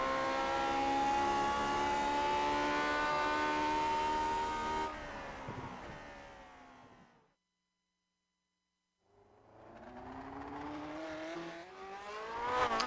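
A race car engine on a lap of Suzuka in Grand Prix Legends howls at high revs with steady harmonic whine, drops through a downshift, cuts to near silence, then climbs again through rising revs, loud and close.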